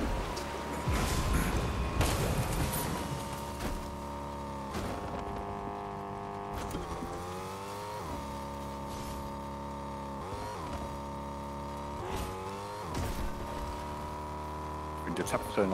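A car engine drones steadily in Fortnite, a sustained hum that rises and dips with changes in speed, while people talk over it throughout.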